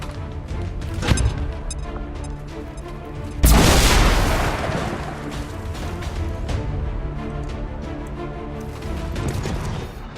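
Explosions in the XCOM 2 video game: an early thud, then a loud sudden bomb blast with a long rumbling tail, followed by rattling combat noise and further impacts, with no talk.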